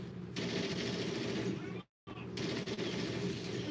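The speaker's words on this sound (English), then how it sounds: "I'm trying to shoot at you." Dense, continuous automatic gunfire from a Call of Duty shooter game, rattling steadily for most of the stretch, cutting out briefly in the middle, then resuming just as loud.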